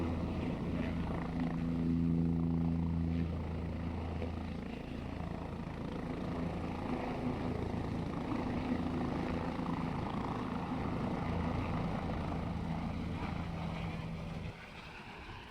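Helicopter taking off near Kedarnath in the mountains, a continuous rumbling engine and rotor drone with low humming tones, steady and moderately distant throughout before easing slightly at the end.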